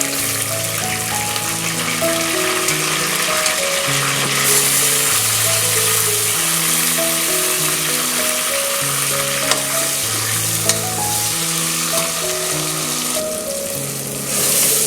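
Tomatoes frying with onions and green chillies for mutton biryani make a loud, continuous sizzle with stirring scrapes, while soft background music plays underneath and nobody speaks.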